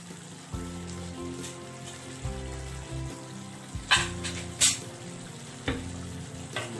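Turmeric, chili powder and salt being stirred in a hot pan of oil, a steady frying sizzle with scraping strokes of a spatula and a few sharper clinks against the pan.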